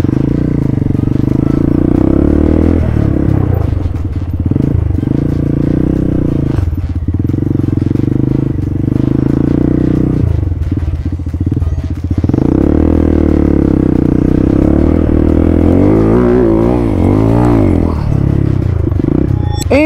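A Falat 200 CRF-style dirt motorcycle climbs a slope, its single-cylinder engine droning loud and steady with throttle swells and a few dips, mechanical clatter over the running engine.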